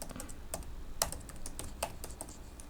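Typing code on a computer keyboard: a steady run of close, crisp key clicks with a few sharper, louder strikes, heard alone without voices.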